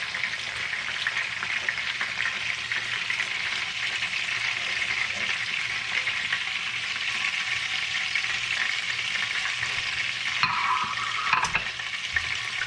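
Sausages for a cassoulet sizzle and crackle steadily in a hot pan, a dense close frying hiss with occasional stirring scrapes near the end and no talking.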